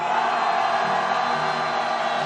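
A large protest crowd in Korea shouting together in one sustained roar of voices, dense and loud throughout, steady with no breaks.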